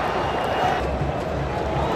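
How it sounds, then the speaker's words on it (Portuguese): Fluminense supporters singing and roaring together in a packed stadium during a Club World Cup final, a dense, continuous crowd wash heard from within the stands. "a torcida do Fluminense cantando muito aqui no estádio, muito mesmo"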